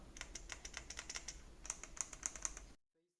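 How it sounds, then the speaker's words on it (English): Joystick button on a BIGBIG WON Blitz 2 TMR Joysticks Edition controller being pressed repeatedly, a series of sharp, close plastic clicks in an irregular rhythm, some sounding doubled, ending in silence. "the joystick button click is kind of weird"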